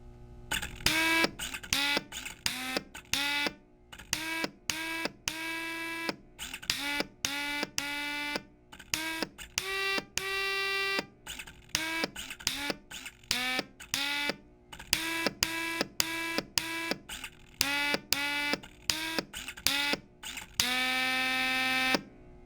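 A motor-rotated pitch pipe organ sounding a diatonic scale, its reedy tones rising and falling in quick separate notes with short pauses between them, some notes held longer, clear and close with a whirring motor underneath.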